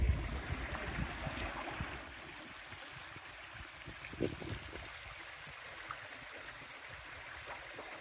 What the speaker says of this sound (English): this goes down to a creek, I think.